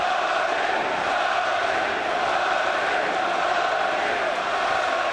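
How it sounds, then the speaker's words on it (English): A dense boxing crowd at a John Duddy fight roars steadily and continuously, a thick wall of massed voices with a rhythmic chanting quality that holds at one level throughout without breaks. "Crowd chanting Duddy,"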